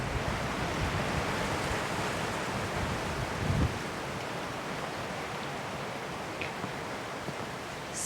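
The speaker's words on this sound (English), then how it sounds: "you might be hearing it's a little bit windy on my end" Steady outdoor wind rushes across the microphone as a continuous broadband roar, fairly quiet but unbroken, with a brief gust thump partway through and no voices.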